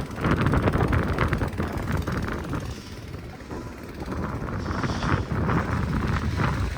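Strong wind roars through a heavy snowstorm in Mammoth Lakes during a bomb cyclone, loud and continuous with broad gusting surges and buffeting against the microphone.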